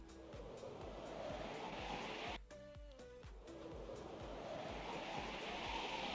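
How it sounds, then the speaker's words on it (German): Continuous rushing water from a pool in Minecraft: Sky Factory 4, a steady broadband wash with faint ticking, briefly interrupted by a short in-game chime before the flow resumes. "Da ist ein Wasserpool, da ist ein Wasserpool!"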